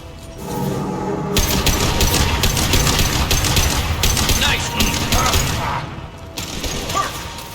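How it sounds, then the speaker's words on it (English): Concussive shot gunfire in the video game Mass Effect 2, a loud rapid burst of shots and impacts with mechanical clatter, mixed with game sounds and brief voices. "Firing concussive shot!"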